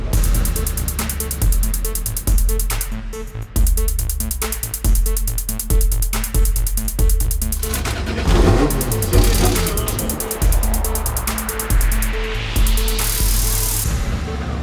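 A Toyota Supra MK3 drift race car at a Formula Drift event on track, its engine loudly revving and bouncing off the limiter in repeated surges, then climbing steadily in pitch as it accelerates.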